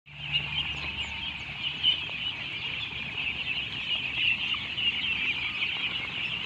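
A flock of 20-day-old ducklings chirps and peeps in a dense, continuous chorus close by, high calls overlapping with faint low background noise throughout.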